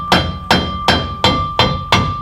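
Six sharp hammer blows land at a steady rhythm, about two per second, while a receiver hitch is installed. Each strike is loud and close and leaves a clear metallic ring.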